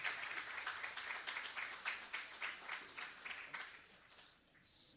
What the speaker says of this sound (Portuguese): Você pode dar uma salva de palmas para o nosso Senhor,